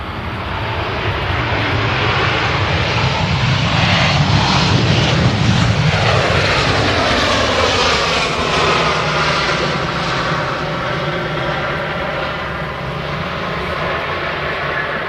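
Airbus A321 landing at Manchester Airport, a loud sustained jet roar with a falling whine sweeping down and doppler-like tonal bands as it passes nearby, continuous for the whole stretch.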